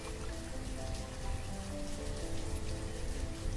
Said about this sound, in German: 21 Grad und es regnet.